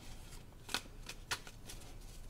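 Tarot cards being shuffled in a few quick riffling bursts, close and crisp against a quiet background.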